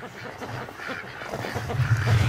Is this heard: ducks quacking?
yes